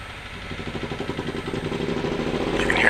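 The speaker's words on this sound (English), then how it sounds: "You can hear him starting the engine." A B-17's auxiliary power unit in the A2A flight simulator cranks up with a rapid, pulsing mechanical chug that steadily rises in loudness, close and alone, ending in a brighter surge.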